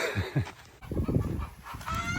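Free-range chickens cluck and chatter nearby on a farm, a busy overlapping flock sound that is loud and continuous throughout.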